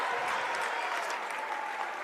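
A crowd at a boys high school basketball game, Davis versus Farmington, applauds steadily for about two seconds, a dense and fairly loud wash of clapping with no clear voices standing out.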